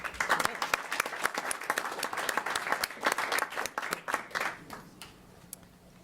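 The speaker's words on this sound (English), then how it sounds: "round of applause for Max" An audience at a school district governing board meeting claps for a student, dense applause with sharp individual claps, fairly close, fading toward the end, with faint voices mixed in.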